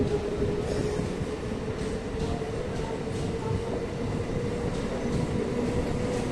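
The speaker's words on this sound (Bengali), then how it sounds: "তো চলো, ট্রেন ছেড়ে দিল" A train departing a station, heard as a steady low rumble of rolling carriages at moderate distance, continuous and even throughout with faint clatter.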